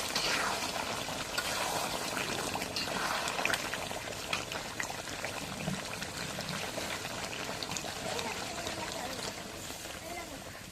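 Meat and potatoes sauté in a pan with a steady, close sizzling hiss and occasional stirring, while a person talks over the cooking.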